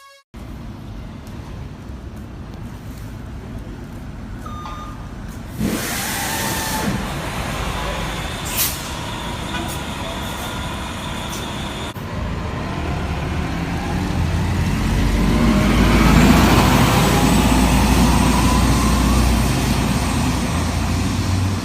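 A 1995-1996 Nova Bus RTS-06 transit bus gives a sharp air-starter burst, then its diesel engine pulls away and builds steadily louder as it accelerates, heard up close.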